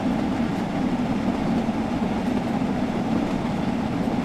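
Steam locomotive in Train Sim World 6 running with the regulator fully open, a loud, steady rolling rumble of wheels and engine that continues unbroken throughout, with no talking.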